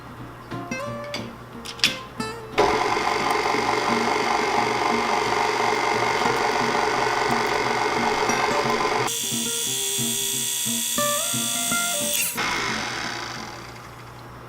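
Electric mixer at low speed beating keto peanut butter cheesecake batter, a steady whirring drone close by that runs for several seconds, changes tone partway, then stops.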